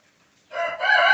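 A rooster among farm hens crows once, suddenly and loud, after near silence, a close harsh call that rises and holds.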